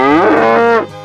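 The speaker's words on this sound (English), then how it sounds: "cow," A cow gives one loud, close moo of about a second, with a rich harmonic tone that bends and then cuts off abruptly.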